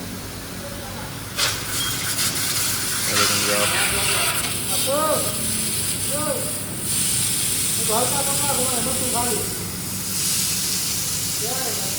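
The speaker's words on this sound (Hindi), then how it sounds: "अभी जो है बाइक हमारी वाश हो रही है, देखें आप।" A motorbike gets washed with a pressurized water spray, a steady hiss running throughout at close range, while a voice speaks briefly over it and other voices chatter in the background.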